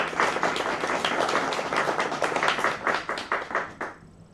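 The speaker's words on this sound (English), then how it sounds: "please give a round of applause to our sponsors, JetBrains and iterators" Audience applause for the sponsors JetBrains and iterators at a ScalaWAW Scala meetup: a room of people clapping steadily for several seconds, individual claps audible, tapering off and stopping near the end.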